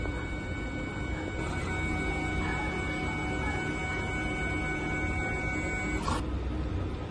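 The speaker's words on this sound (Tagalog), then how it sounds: "Ganito naman mag-head clean." A DTF printer runs a print head clean, giving a steady mechanical whir and hum with faint tonal whines and a brief click near the end, with no talk.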